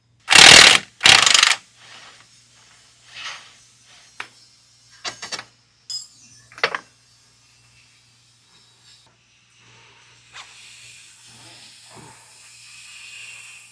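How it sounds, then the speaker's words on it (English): Ratchet and wrench clicks as the rear lower knuckle mounting bolt comes off a CFMOTO UForce U10 PRO, two loud air bursts first, then scattered short metallic ratcheting and clanks with quiet gaps. "We can now remove the rear lower knuckle mounting bolt."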